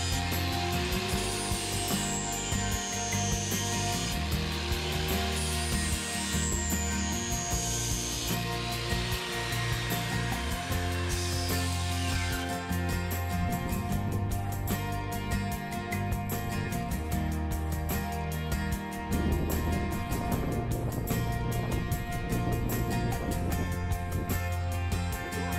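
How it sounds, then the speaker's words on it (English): A power grinder sharpening the metal tines of a rototiller runs loud and continuous, a steady abrasive whine with shifting, sweeping tones as it works into the tight spaces between the tines. "I never would have been able to get into the tight spaces to grind these tines if the guard was in place anyway."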